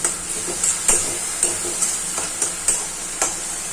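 Spices with salt and turmeric are sautéed in oil for a puti fish curry, a close, even sizzle broken by regular scraping stirs of a spoon against the pan, roughly a couple per second.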